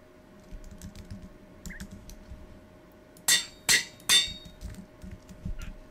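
Computer keyboard typing while naming items in Minecraft, heard as a few soft scattered key taps followed by three louder, sharp clacks in quick succession against a quiet room hum.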